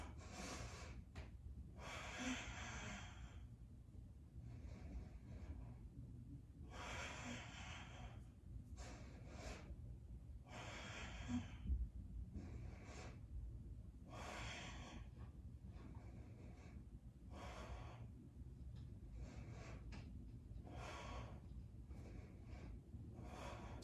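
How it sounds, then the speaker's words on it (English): Deep breathing in and out through the nose during a guided breathing exercise, a long rhythmic series of airy inhales and exhales, close and fairly quiet, over a low background hum. "Try to time your inhale, breathing fully in and expanding the lungs."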